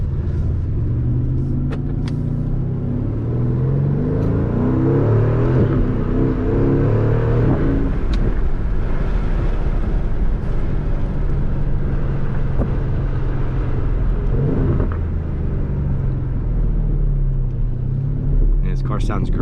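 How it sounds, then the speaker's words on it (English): Aston Martin DB11 engine in Sport Plus mode accelerating hard, a steady deep rumble building over about twenty seconds from inside the cabin, with a person talking over it. "Car sounds great."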